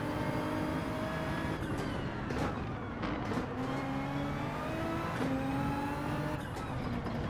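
Nissan GT-R GT500 Nismo race car in Gran Turismo 7, its engine droning and revving continuously with rising and falling pitch through gear changes, loud and close with no talking.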